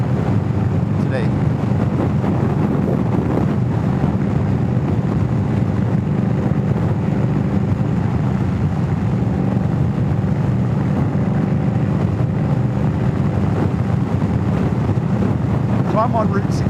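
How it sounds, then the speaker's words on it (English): Strong wind buffeting a rider on a 2021 Indian Scout Bobber Twenty on Route 66, a loud constant roar across the whole stretch, with the engine likely blended underneath. "I think this is the windiest I've ridden"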